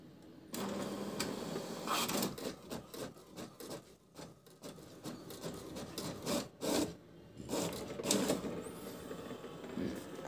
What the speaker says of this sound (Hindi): अब आप देख सकते हैं आपका आधार कार्ड पूरा प्रिंट हो गया है सही तरीके से